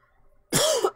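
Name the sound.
coughing fit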